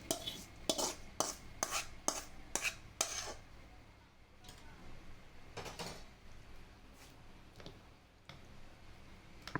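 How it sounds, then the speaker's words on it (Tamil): A spoon stirs thick sweet paniyaram batter mixed with roasted coconut in a bowl, giving a quick run of sharp clinks and taps at first, then softer scraping with a few scattered knocks, close and fairly quiet. "நல்லா பணியார மாவு பதத்துக்கு கெட்டியாகவே கரைச்சிக்கோங்க."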